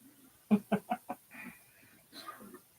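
A bird gives a quick run of four loud, clipped calls, then a softer drawn-out call and a few fainter notes, heard close by in an otherwise quiet indoor setting during a live religious service.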